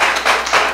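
A church congregation claps along in a steady, quick rhythm, the applause loud and close, filling the whole short moment with no voices over it.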